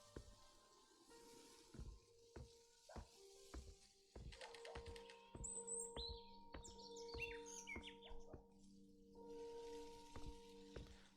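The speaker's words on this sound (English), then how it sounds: "Oh, what lovely birds." Cheerful bird chirps and warbling songs in the Maid of Sker video game, several birds calling in varied, overlapping phrases over steady ambient tones and soft clicking, moderately near and clear.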